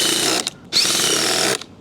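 A DeWalt DCF870 impact driver runs in two loud, steady bursts with a brief pause between them, a harsh high-pitched whine close to the listener with no voices.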